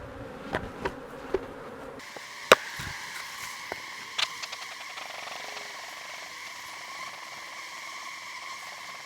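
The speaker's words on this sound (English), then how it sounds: "we got a bunch of bees in here" A crowd of honey bees hums steadily around a hive while a new queen is introduced, a dense close drone punctuated by sharp clicks and taps of hive frames.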